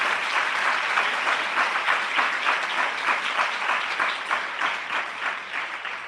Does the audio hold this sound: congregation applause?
yes